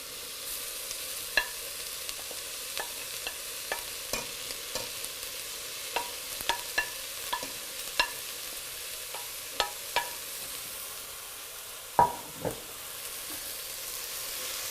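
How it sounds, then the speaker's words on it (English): Finely chopped cilantro is stirred in a pan for Iranian qaliyeh. A faint, soft sizzle runs underneath, broken by sharp, irregular clicks and taps of a utensil against the pan, with no voices. "We're just gonna stir this until it changes color."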